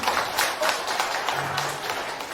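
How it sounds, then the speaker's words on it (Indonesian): An audience gives steady applause for children after a Ramadan short-surah recitation contest, a continuous even patter of clapping with a faint voice briefly underneath. "Mari kita berikan tepuk tangan yang meriah."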